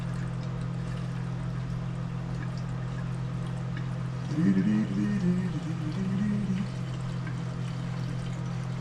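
Liquid pours briefly from a 5-gallon jug during a Honda HRR216 mower service, a soft gurgling trickle of a few seconds over a steady low hum.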